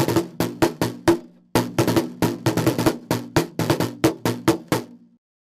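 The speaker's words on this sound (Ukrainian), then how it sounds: "Наступний звук належить барабану" A drum struck in a lively, uneven rhythm, about twenty crisp hits with a short pause early on, close and clear.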